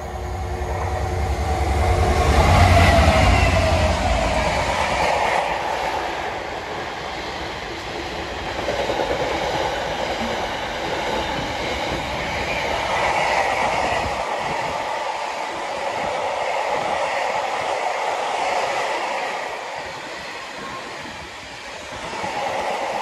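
A freight train rumbles past close by at Ulleskelf/Church Fenton, loud at first with clattering wheels, then fading into a steady rolling drone with a high squeal.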